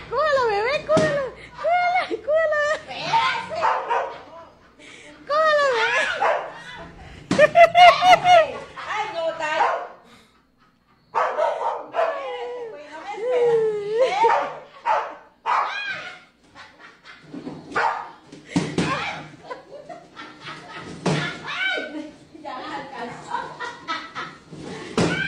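A dog barks in short bursts through a lively children's cartoon scene, mixed under excited shouting voices, music and laughter.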